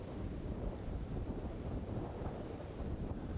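Steady wind buffeting the microphone on a disc golf course beside water, a dense continuous low rumble with no voices.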